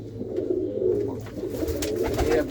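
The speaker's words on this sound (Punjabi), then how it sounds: "ਆ ਨੀਲੀਆਂ ਅੱਖਾਂ ਦਾ ਇੱਕ ਕਬੂਤਰ ਆ" A blue-eyed pigeon coos close by, a continuous low throaty rolling coo sustained throughout with no talking.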